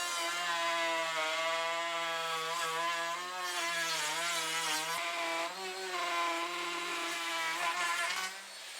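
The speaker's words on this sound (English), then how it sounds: "put a chamfer around the outside with a router" A router whines steadily as it cuts a chamfer around the edge of a pallet wood tabletop, a close, sustained high tone that wavers in pitch as the bit bites, with no talk.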